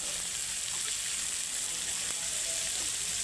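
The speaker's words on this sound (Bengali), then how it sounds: "এবার মাংসগুলো দিয়ে দেবো।" Meat hits ginger, garlic and onion spice paste in a hot pan and sizzles hard, a dense continuous hiss of frying that stays steady and close for the whole moment, with no talking.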